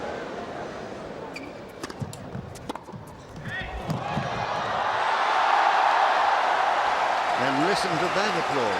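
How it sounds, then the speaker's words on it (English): Crowd applause building and holding steady at the Shanghai 2005 tennis final between Federer and Nalbandian, a broad sustained roar of clapping that swells after some scattered earlier sounds and stays loud to the end. "And listen to that applause."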